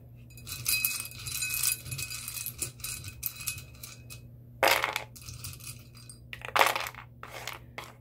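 Small metal letter charms and trinkets clinking and rattling as they are sorted by hand, coming in irregular bursts with a louder jangle partway through and another toward the end, over a low steady hum.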